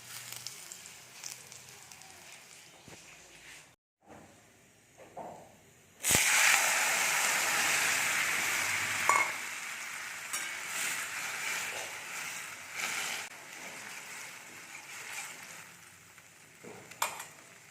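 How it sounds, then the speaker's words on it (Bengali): Fritters (bora) made from ground chickpea dal sizzle in hot oil in a home kitchen, a faint crackle at first, then a sudden loud burst of hissing that continues as a steady, close, bubbling sizzle with no talking. "এটা বড়া ভাজছি"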